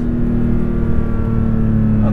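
A 2022 Porsche 911 GT3 engine drones at steady high revs from inside the cabin, a loud continuous tone with little change.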